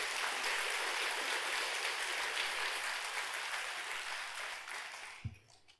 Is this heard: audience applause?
yes